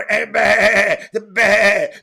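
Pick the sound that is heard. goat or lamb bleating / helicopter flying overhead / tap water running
goat or lamb bleating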